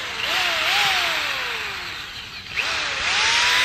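A power drill whines in steady bursts while fastening hoops on a deck, its pitch rising and falling as it bites in, loud and close with broadband noise around it.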